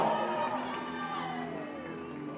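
A large crowd at a CrossFit competition, the Rogue Invitational 2023 women's final event, cheers and shouts steadily throughout, a dense continuous roar with no pauses.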